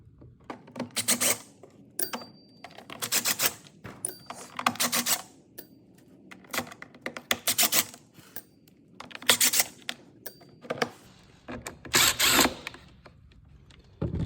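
Screws come out of the bottom cover of a 2011–2015 Ford F-250/F-350 AC climate control box with a T20 driver, heard up close as repeated bursts of clicking, ratcheting and rattling metal with quiet gaps between them.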